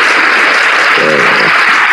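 Loud, sustained applause from an audience at a Christian talk, a dense even roar of clapping with a brief voice faintly audible in the middle.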